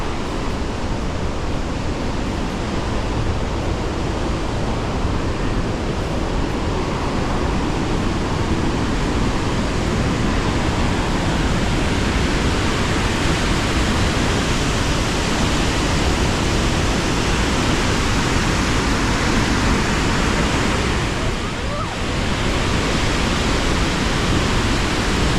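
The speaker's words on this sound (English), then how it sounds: "The water was falling so violently and with such a great speed that there was mist everywhere" Elk Falls near Campbell River, British Columbia, roars as a violent waterfall throwing up mist, a loud, steady broadband rush that continues unbroken with no voices over it.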